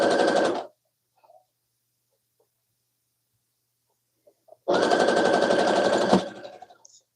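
A sewing machine stitches a zippered scrunchie in two loud, fast-rattling bursts, a short run at the start and a longer one after several seconds of near silence, with faint handling noise between.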